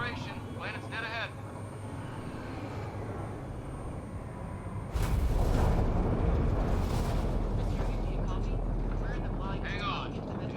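A shuttle in Mass Effect Andromeda enters a planet's atmosphere, a steady mechanical whine that swells partway through into a loud, sustained rumbling roar with bursts of wind-like turbulence.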